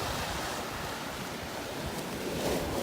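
Ocean surf rolls and washes continuously along the wild Shipwreck Coast of Olympic National Park, a broad steady roar of breaking waves with wind noise on the microphone and a slight swell in loudness near the end.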